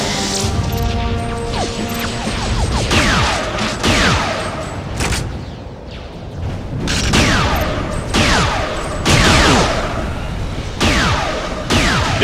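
Sniper rifle shots in the video game TimeSplitters Future Perfect ring out as loud, sharp reports roughly every second, layered over continuous dense battle gunfire and crashing effects with no pause.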